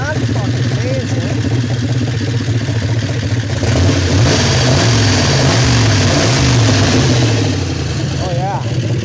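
A 1965 Plymouth Fury with a 440 engine, Holley carburetor and four-speed, rumbling loudly and steadily close by at idle with a brief rise in revs midway; someone talks over it.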